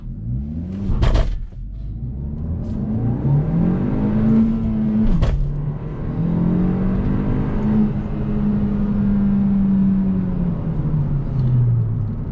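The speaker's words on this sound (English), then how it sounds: "I'm gonna go ahead and see if I could do an acceleration right here" Manual six-speed 2021 Hyundai Elantra N Line accelerating hard with traction control off, engine revs rising and falling through gear changes with brief dips between, loud and close from inside the cabin.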